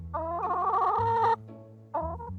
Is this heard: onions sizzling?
no